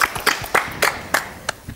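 A few sharp hand claps spaced about a third of a second apart, fairly quiet and close, with no voices.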